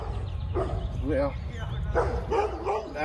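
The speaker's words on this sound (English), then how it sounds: "there goes my dog barking at another dog" A territorial dog barks at another dog, giving about five short, high yipping barks in uneven bursts over a low background rumble.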